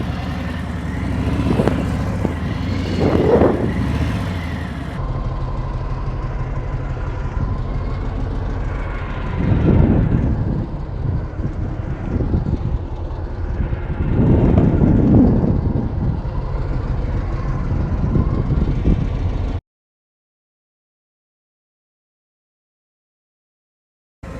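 A Harley motorcycle engine revs at raised RPMs during clutch-controlled lean-and-turn riding, a loud continuous drone that swells and eases for about twenty seconds before cutting to silence.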